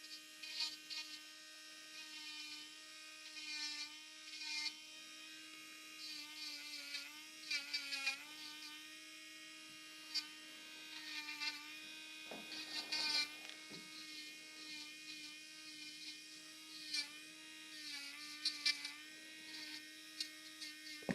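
An electric nail file spins a bit with a thin, steady motor whine, lightly smoothing a gel nail fold, with brief louder scrapes as the bit touches the nail, faint and close throughout.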